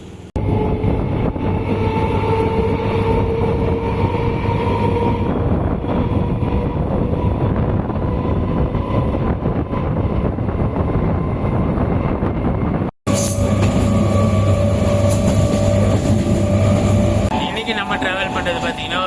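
An eight-car MEMU express train on the Salem to Mayiladuthurai run rumbles steadily from inside a coach, with constant wheel roar and wind rush broken by a brief dropout.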